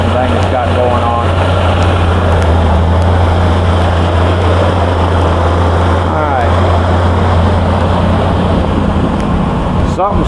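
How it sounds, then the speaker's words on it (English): Ford F600 truck engine idling just after a cold start on a chilly morning with a weak battery, a loud steady low rumble with a slight shake, running continuously throughout. "Now that's pretty stable right there for as cold as that motor is."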